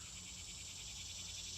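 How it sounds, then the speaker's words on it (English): Cicadas calling outdoors in summer: a dense, continuous high-pitched buzzing chorus, steady and fairly faint, with a low background hum and no speech. "The cicadas are loud today."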